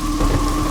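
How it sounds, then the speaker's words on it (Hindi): A steady heavy downpour hisses continuously under a faint low thunder rumble, brief and close, in a movie scene. "अरे रे, इतनी बारिश क्यों हो रही है?"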